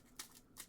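Playing cards from a Dark Magician duel deck drop onto a surface in two quick, light papery flicks a moment apart, close but faint.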